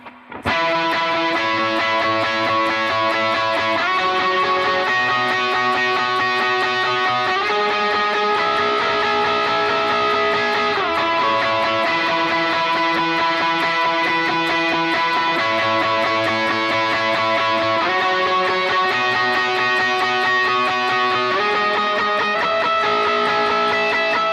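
Overdriven electric guitar plays a continuous lead line with sustained, bending notes, loud and steady throughout, no voices.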